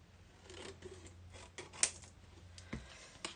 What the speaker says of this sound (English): I'm just going to use the scissors.